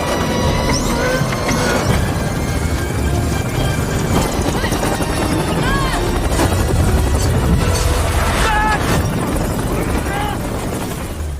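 A helicopter losing power in strong wind as it tries to land on K2, in a film scene, gives a loud continuous rotor roar with clatter and thumps, and a voice speaks over it.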